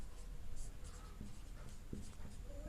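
Pencil or pen scratching across paper while notes on a science lesson are written, a steady close scribbling texture with faint background noise and no talk.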